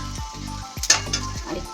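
Panch phoron, bay leaf and dried chili sizzling in hot oil in a pan, a close crackling fry with a few quick spoon scrapes and light clinks over a low steady hum.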